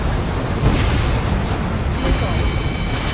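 An aircraft cannon fires in Ace Combat 7: Skies Unknown during a pipeline destruction mission, a continuous roaring burst of gunfire with rumbling, explosive texture throughout.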